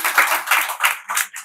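A church congregation claps hands together in rhythm during a sermon, with several loud, close bursts of clapping spaced about a third of a second apart.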